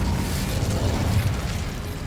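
Incendio fire spell blasting in a Harry Potter video game, a dense, rumbling low boom sustained for about two seconds with no talk.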